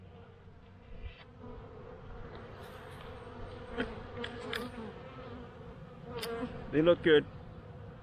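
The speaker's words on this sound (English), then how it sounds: "Except now I got bees all over the place." Honey bees buzz around an opened winter hive in Pennsylvania, a steady insect drone with a few louder close passes near the end, while someone talks quietly over it.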